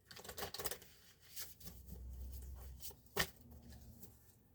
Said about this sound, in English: I feel like they want me to shuffle them like cards.